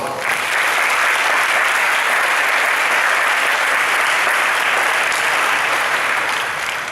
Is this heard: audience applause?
yes